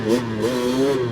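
A Honda 250R two-stroke engine revving close by, loud and buzzy, its pitch swelling and dipping in a sustained, wavering drone over a little over a second.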